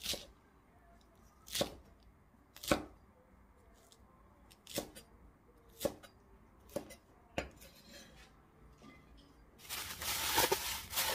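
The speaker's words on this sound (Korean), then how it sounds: "그래서 저는 깍두기의 크기와 거의 같게 약 3cm 길이로 썰어 주도록 하겠습니다" Radish is cut into cubes for kkakdugi with sparse, separate knife strikes on a board, about eight in all at uneven intervals. The strikes are quiet and close, and a louder rustling scrape follows at the end.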